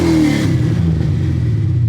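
A car engine revs hard in one short, loud burst, then settles into a low, rough rumble.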